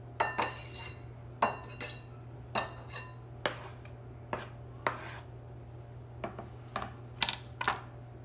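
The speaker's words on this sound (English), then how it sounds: "I'm just gonna lift this and scrape it off into my bowl." A knife scrapes chopped black bean burger ingredients off a cutting board into a bowl in a home kitchen, heard as a series of sharp, close scraping and tapping strokes at an uneven rhythm over a steady low hum.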